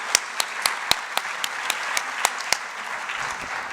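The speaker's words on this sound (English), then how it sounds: "let's give them another big round of applause for our honorees, Ann and Ron Pizzuti, tonight." Scattered, sparse hand claps from an audience at an evening honoree ceremony, the tail end of applause thinning to a few sharp individual claps over a faint room murmur.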